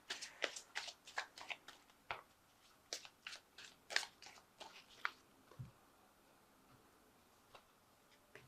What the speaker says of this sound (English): Now I have shuffled this deck.